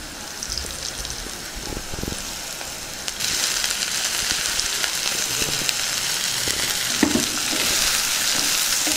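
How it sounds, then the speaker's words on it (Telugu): Soaked cauliflower florets tipped into a hot pan with oil and turmeric, giving a steady close sizzle and crackle that grows louder and denser partway through, with no speech. "వేడి నీళ్ళల్లో నానబెట్టుకున్న కాలీఫ్లవర్ని ఇందులో వేసేసుకుందాం."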